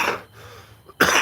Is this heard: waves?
no